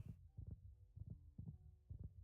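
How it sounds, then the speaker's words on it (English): Heartbeat of the Warden in Minecraft, a deep, muffled double-thump pulse repeating steadily about every half second, five beats close and alone against a low hum. "I think its heartbeat is getting lower."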